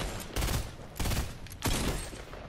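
Three loud bursts of rapid automatic gunfire from the Fortnite video game, each lasting about half a second and separated by brief pauses, close and dense with no talking.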